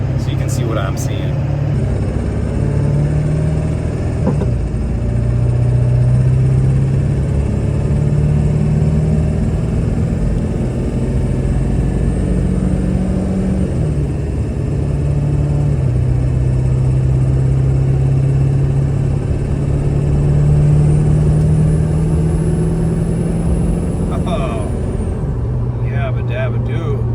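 A truck engine runs steadily throughout, its drone stepping in pitch as the transmission shifts from first to second gear, with a brief hiss near the end.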